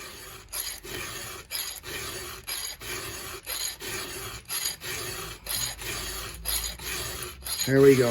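A chainsaw chain being sharpened by hand with a file, steady rhythmic rasping strokes about twice a second, close and fairly quiet, with a brief spoken phrase near the end.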